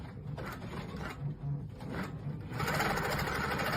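A Janome Quilt Maker 18 longarm machine driven by a Pro-Stitcher Lite begins stitching, its needle clattering in a fast, steady motor-driven rhythm that grows louder and fuller toward the end.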